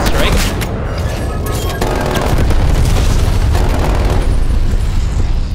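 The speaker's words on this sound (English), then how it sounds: "Napalm strike" Napalm strike explosions in Call of Duty: Black Ops Cold War, a rolling series of loud booms and crackling blasts layered with gunfire, continuous and close, with players talking over the action.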